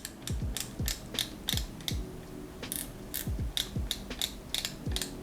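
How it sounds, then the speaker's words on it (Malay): A fishing reel's drag gives out a quick, uneven run of sharp mechanical ratcheting clicks, close and fairly quiet, with no one speaking over it. "dia ada bunyi drag geng."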